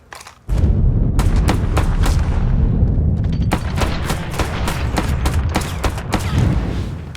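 Gunfire rattles through a combat scene in the game Mafia III: sharp shots ring out in quick irregular bursts after a brief quiet start, loud and close over a continuous low rumble.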